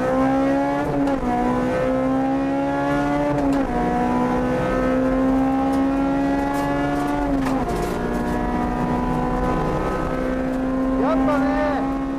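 A Honda Type R driven hard climbs through the revs in long rising wails, with clear drops at each gear change, loud and close throughout, and a brief voice near the end.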